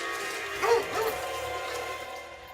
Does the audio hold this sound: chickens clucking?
no